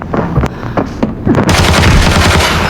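Gunfire in the shooter game Arena Breakout, an FAL rifle firing rapid sharp cracks: a few spaced shots, then a dense loud burst of overlapping fire with echoing booms, close and alone.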